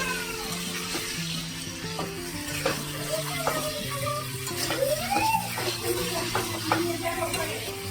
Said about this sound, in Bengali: তো চলো মাংসটা কষাই, কষিয়ে কুকারে দিই